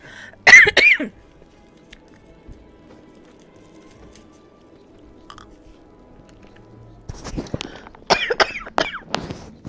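A person coughs sharply near the start, followed by a long quiet stretch, then a burst of throat clearing and mouth noises close to the mic.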